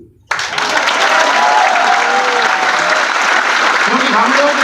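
Audience on a cruise ship breaking into loud applause after a brief silence, many hands clapping in a thick, sustained roar with voices and cheers rising over it.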